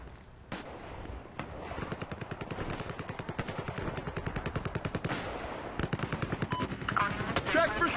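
Rapid automatic gunfire from Battlefield Hardline beta gameplay rattles in dense, loud bursts, with sharp single shots at the start and a tight mechanical rhythm that runs throughout.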